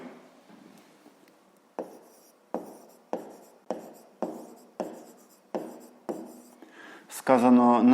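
Chalk or marker writing out a fifth-grade math solution on a board: a rapid series of about ten sharp, evenly paced strokes, close and fairly loud, ending in a brief louder scraping burst, with no talk.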